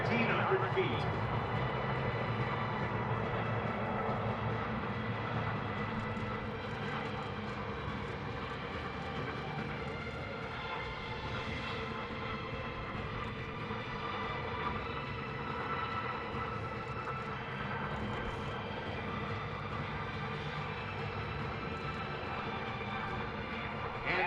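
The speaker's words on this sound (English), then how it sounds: "After touchdown, the pilots will reverse the blades, turning them into pushers to help slow the airplane down" A KC-130J Super Hercules rolls out after touchdown at an air show at Iwakuni with its propellers reversed, giving a steady, loud turboprop roar throughout while an announcer talks over it.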